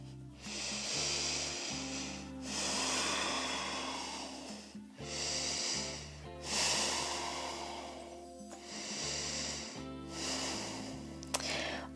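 Slow, deep breathing during a beginner yoga pose, with long airy inhales and exhales repeating in a steady rhythm, close and fairly quiet with no talk.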